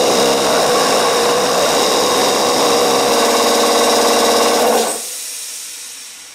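A Polish 3065 air compressor fitted with a changed belt pulley runs loud and steady with a dense mechanical clatter and drone, then its motor stalls abruptly near the end, leaving a fading hiss.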